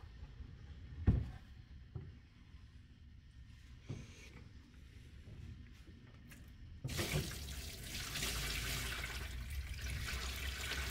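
Water holding red midge larvae pours in a broad, loud rush from a tub through an aquarium net after a few quiet knocks and splashes, then keeps splashing steadily until the end.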